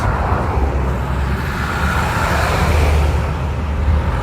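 Cars pass on a busy road beside the Sawley Abbey ruins, a loud, continuous roar of traffic swelling as vehicles go by close at hand.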